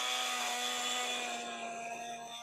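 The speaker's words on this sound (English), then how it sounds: "just needed to get that multi-tool to get underneath that to get it a little bit loose" An oscillating multi-tool buzzes continuously with a steady high whine as it works under heavily painted furniture parts to pry them loose, fairly close and alone, easing slightly toward the end.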